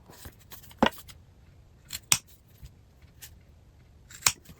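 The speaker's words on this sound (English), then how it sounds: "we're going to take some scissors and nip off these little corners here that are sticking out" Scissors nipping the corners off sewn fabric for a travel sling, several separate crisp snips spaced out over a few seconds, close and clear against a quiet room, with no talking.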